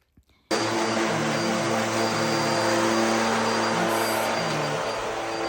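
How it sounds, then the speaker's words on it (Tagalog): An apartment vacuum cleaner switches on after half a second of near silence and runs steadily, a loud constant whine and roar with slight shifts in pitch as it moves. "Tapos, magba-vacuum."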